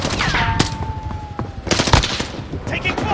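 Enemy soldiers' gunfire in a video game, a short rattling burst of automatic shots up close, followed by a second volley and a faint tone, amid game noise.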